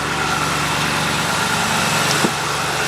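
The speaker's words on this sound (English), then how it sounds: "Now I just fired the engine up." A BMW 6 Series engine idles steadily after being started, a continuous close-up hum with no misfires and one brief higher blip near the end.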